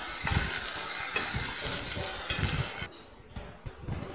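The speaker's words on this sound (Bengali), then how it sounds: "এবার ওই ভেজা হাতাটা দিয়ে শাকটাকে গুলিয়ে দিলাম একটু।" Leafy greens stirred with a wet ladle in a hot pan, a loud steady sizzle and frying hiss with scraping stir strokes, easing quieter toward the end.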